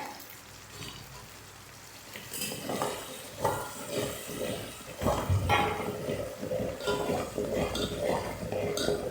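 Spice tempering with fenugreek and chillies sizzling in hot oil for a buttermilk curry, crackling and spattering alongside stirring and clinks of a metal utensil against the pot, growing busier after a quieter start.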